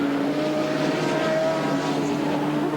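A Ford Sierra touring car races flat out down Conrod Straight at the 1992 Bathurst 1000, its engine a loud, steady, droning roar with a sustained whine, heard without a break.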